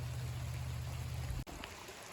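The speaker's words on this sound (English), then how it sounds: "Here you can see some water flowing towards the creek" Water flowing along a channel toward a creek, a steady low rushing wash that holds close and even, briefly broken near the end by a sharp knock before a thinner trickle carries on.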